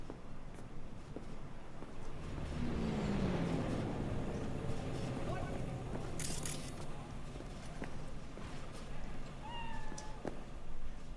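A cat meows inside the video game Cyberpunk 2077, a few short tonal calls rising out of a steady bed of in-game ambience and background noise.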